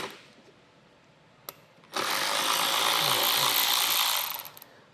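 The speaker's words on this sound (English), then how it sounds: "Underneath our fascia, we're going to need to remove 2 T25 screws," Ratchet clicking as T25 screws come out from under the front fascia of a 2013 Mini Cooper: a sharp click near 1.5 s, then a loud, steady buzzing ratchet run of about two and a half seconds close to the mic.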